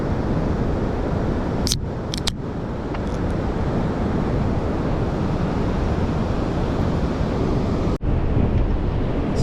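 Steady roar of surf breaking on a Fraser Island beach, mixed with wind buffeting the microphone, continuous and loud with a couple of brief thumps.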